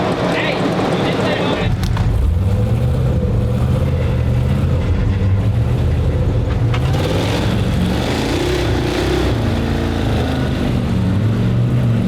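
An off-road vehicle's engine drones and revs hard as it drags a Rock Buggy out on a kinetic rope on an Alabama trail, loud and continuous, with people talking over it.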